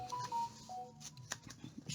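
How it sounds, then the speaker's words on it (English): A phone chimes in the background with a few thin electronic tones, faint and brief, followed by soft handling clicks and rustles in a quiet room. "Excuse my phone in the background today."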